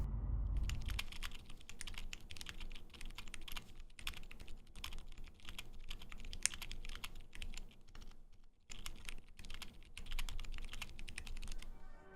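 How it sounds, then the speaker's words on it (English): Steady typing on a custom mechanical keyboard, a dense run of crisp clacking keystrokes close up, with short pauses between bursts. "Step 6, typing."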